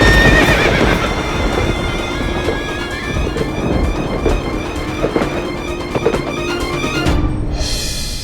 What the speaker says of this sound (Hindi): हमने घोड़े के चलने की आवाज सुनी